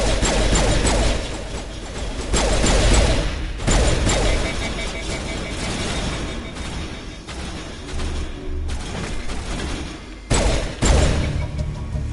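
Sustained rapid gunfire and mechanical weapon clatter in the Mass Effect 1 Legendary Edition video game, a dense continuous volley with brief pauses and sharp bursts, loud and close throughout.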